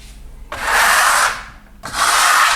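A steel spatula spreads and smooths matte velour decorative plaster across a primed wall in two long, loud scraping strokes with a brief quieter pause between them.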